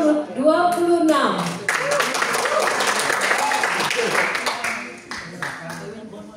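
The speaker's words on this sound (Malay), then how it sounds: "Berikan tepuk tangan yang meriah untuk peserta dengan nomor 26." A crowd at a singing competition audition bursts into steady applause and clapping that fades toward the end, with an announcer speaking over the start.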